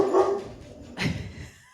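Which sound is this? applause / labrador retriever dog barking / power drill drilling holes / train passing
labrador retriever dog barking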